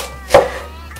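A single close, sharp knife chop through onion on a board, with quiet kitchen background before and after.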